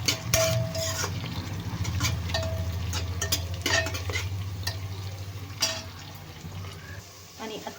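Chopped onions and green chillies frying in a pan for soybean pulao, a soft sizzle with spoon scrapes and clinks against the metal as they are stirred.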